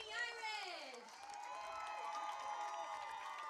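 Stadium crowd at a women's rugby match cheering and clapping after a long-run try, a sustained broad roar with a commentator's voice sweeping over it at the start.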